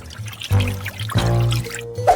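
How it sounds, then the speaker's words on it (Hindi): Water and sugar are poured into a pot on a stove for making candy, giving two or three short splashing trickles close by, with quiet gaps between them and no talking. "अब चीनी, पानी, सब कुछ अच्छे से मिलाना है"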